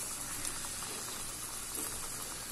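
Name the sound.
KFC-style popcorn chicken frying in oil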